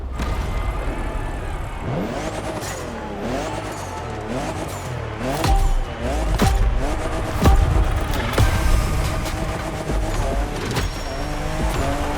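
A 2021 Toyota Super Drift Edition drifting in The Crew Motorfest: the engine revs rise and fall in repeated surges while tires squeal and skid, loud and close throughout.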